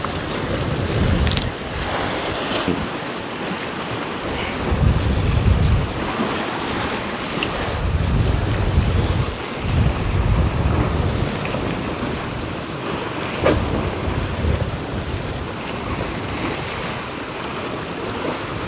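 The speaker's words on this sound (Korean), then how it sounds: "바람 진짜 너무 많이 분다." Strong wind buffets the microphone over steady surf and waves breaking on a rocky island shore during long-tail rudderfish fishing, a loud continuous roar with gusty surges and no talking.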